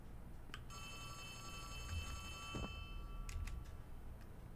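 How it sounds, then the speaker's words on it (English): A telephone ringing inside the horror game Poppy Playtime, a faint, steady electronic trill heard alone over a quiet background with a few soft clicks. "Oh, I have a phone call?"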